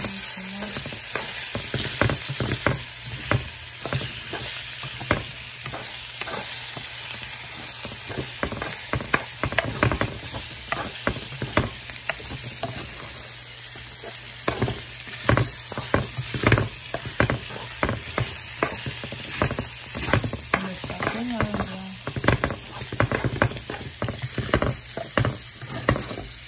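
Chorizo sausages frying in a pan for breakfast, a loud, steady sizzle with frequent crackling pops and occasional utensil scrapes, close up and continuous with no talking.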